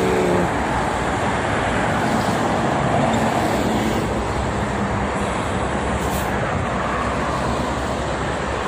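Steady, dense roar of heavy traffic dominated by cargo trucks on the Jakarta–Cikampek toll road, a continuous loud wash of tyre and engine noise with no breaks, heard up close from the roadside.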